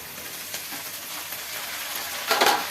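Fresh greens (shak) dropped into hot oil in a home kitchen pan, giving a steady broad sizzle throughout with a louder crackling burst near the end, and no talk.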